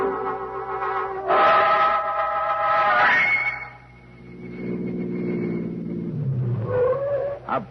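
Car pulling off a highway in an old-time radio drama effect, engine rising and falling, then settling to a lower hum before a brief tire squeal near the end.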